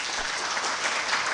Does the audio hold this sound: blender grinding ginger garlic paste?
no